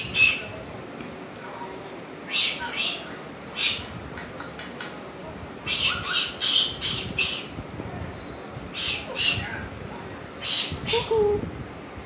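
An African grey parrot gives a string of short squawks, whistles and chirpy calls in bursts, close by. A person talks to it between the calls.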